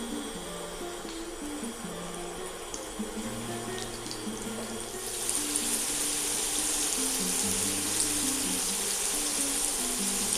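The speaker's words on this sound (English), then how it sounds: "Put some vegetable oil in here so we can pan fry them." Vegan cabbage and tofu dumplings pan fry in vegetable oil, with a soft background that swells halfway through into a louder, steady close sizzle. No talking.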